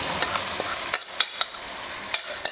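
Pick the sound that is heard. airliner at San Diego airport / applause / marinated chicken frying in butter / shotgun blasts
marinated chicken frying in butter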